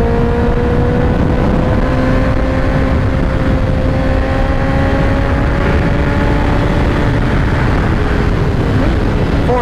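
A 2017 Honda CBR1000RR motorcycle on a test ride, its engine roaring loud and continuous with smoothly rising and falling pitch under throttle, close by and dominating, with wind noise.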